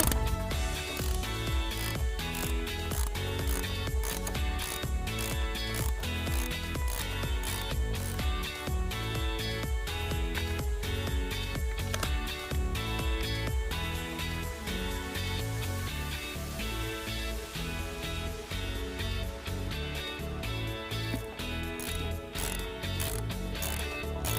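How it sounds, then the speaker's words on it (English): A 13mm socket ratchet loosens a bolt on a 2017 Buick Verano during a trailer wiring install, giving a steady, fast run of close, loud metallic clicks that continues throughout with no talking. "I'm going to use a 13mm socket to loosen this here."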